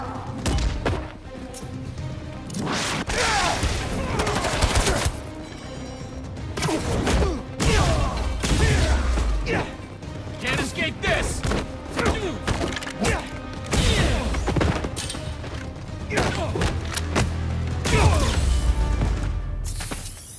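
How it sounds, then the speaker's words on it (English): Fireworks burst in the video game Marvel's Spider-Man 2, a loud, dense barrage of thumps, cracks and crashing explosions repeating rapidly throughout, close and continuous. "Fireworks! They're lit!"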